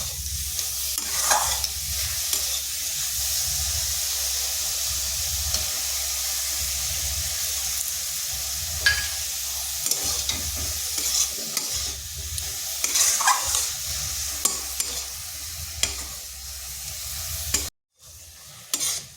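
Carrot and sugar mixture stirred and cooked down in a pan for sweet carrot filling, a steady sizzle and bubbling hiss with repeated scraping stirs throughout, close and continuous.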